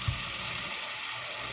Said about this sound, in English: We're going to fill it with water